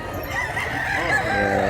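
At an early-morning poultry market, roosters crow over clucking chickens as sellers set out their birds, several drawn-out calls layered together nearby.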